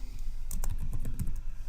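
Close, quick typing on a computer keyboard, a run of crisp clicking keystrokes in an irregular rhythm with a low hum underneath.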